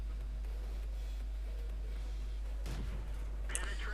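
Tank gun of an M10 Wolverine firing in World of Tanks, a single sharp boom late in the clip over a steady low game hum, followed by a brief crackling impact, with no talk.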